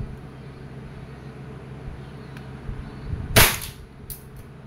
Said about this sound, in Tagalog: Glock 18C by ENC. Gen 3. Okay. Semi-auto. Firing.